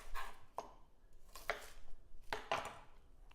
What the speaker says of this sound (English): So I have me a shallot that I'm about to cut up.